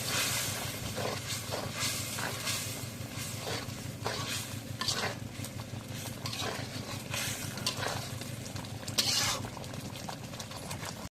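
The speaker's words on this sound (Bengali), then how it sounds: "এখন মশলাগুলো একটু নাড়িয়ে দিই" Spices with chili powder sizzle and crackle in a hot pan as they are stirred, with a continuous close frying hiss and scraping strokes that repeat throughout.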